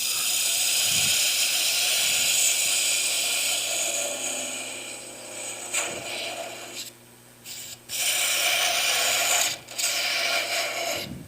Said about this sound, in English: I'm working with a spindle gouge here, just to round off that edge.